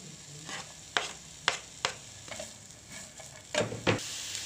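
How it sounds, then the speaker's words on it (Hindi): Onions sauté in a little cooking oil in a pan, a soft low sizzle broken by several sharp stirring scrapes and clacks of a utensil against the pan, quiet and close. "अब इसमें हमने प्याज डाल के प्याज को सौते करना है।"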